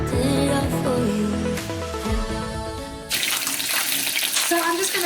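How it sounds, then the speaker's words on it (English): Hot water poured into a bowl of powdered dough mix in a home kitchen, a steady close hiss and splash that starts after about three seconds of music and continues loudly to the end. "I'm just gonna put this hot water in with this powder dough and make a mess while I do it"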